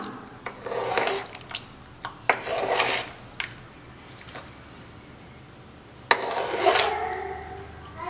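Sweet pongal rice is stirred with jaggery syrup in a pot, a spoon scraping and rasping through the thick mixture in a few bursts separated by quieter pauses, close by with no talking.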